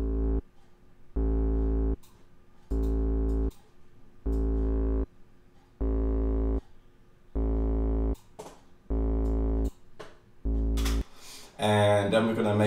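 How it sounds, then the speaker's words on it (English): A deep, buzzy synth bass plays repeated sustained notes in a steady on-off pattern, gritty with distortion, ending in a brighter, wobbling tone. "We're just going to add a slight bit of distortion."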